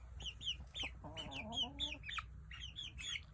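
Brahma chicks and Orpington hens cluck together, with repeated short chirps from the chicks and a longer, drawn-out hen call in the middle, all fairly close and with no voices.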